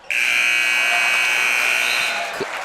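At a high school basketball game, the end-of-quarter buzzer blares as one long, loud, harsh tone for about two seconds, then cuts off into faint gym noise.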